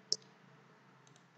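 A single crisp computer mouse click near the start, then a couple of fainter clicks about a second later, all close and quiet against a low room hum.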